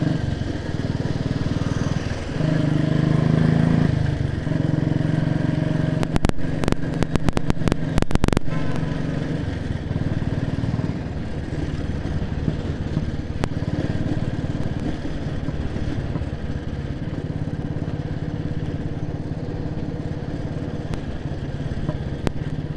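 A motorcycle engine drones steadily during a ride, a constant mid-pitched hum with a brief rattling clatter partway through and no talking over it.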